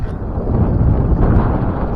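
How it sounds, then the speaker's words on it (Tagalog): Strong northeast monsoon wind sweeps across a fishing boat at sea, a loud, low, rumbling roar buffeting the microphone without pause. "malakas yung hangin"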